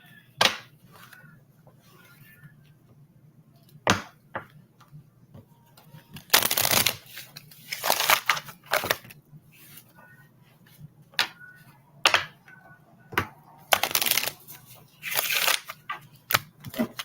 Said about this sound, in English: All my decks are pre-shuffled, but I always like to do a couple extra fresh shuffles.